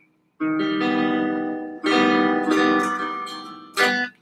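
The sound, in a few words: inside chords played on a PRS Santana guitar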